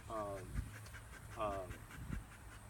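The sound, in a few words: protection dog barking and panting at the helper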